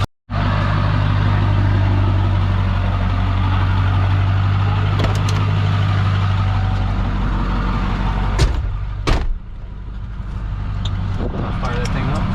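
A Ford OBS pickup's 7.3 diesel engine fires up and runs, a loud steady diesel clatter and low rumble filling the whole stretch, with a couple of sharp knocks near the end and voices talking over it.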